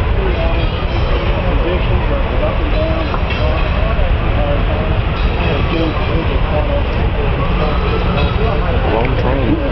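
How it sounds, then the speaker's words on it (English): A long empty Norfolk Southern coal train rolls eastbound through Roanoke, Virginia, a steady close rumble and wheel clatter throughout while people chat nearby. "Long train."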